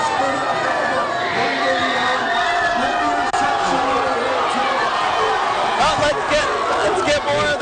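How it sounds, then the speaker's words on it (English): Celebrating crowd after the IU Hoosiers take the championship, a loud continuous roar of cheering, shouting and chatter throughout, with a voice talking over it. "They're hugging, they're celebrating"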